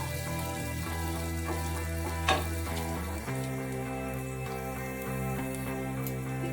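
Onions frying in hot oil toward golden brown for a radish (mula) dish, with a steady close sizzle throughout, a few spoon clicks and stirs, and a brief louder scrape midway.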